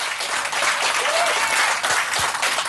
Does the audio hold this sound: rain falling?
no